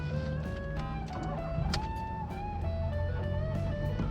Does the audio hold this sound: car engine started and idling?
yes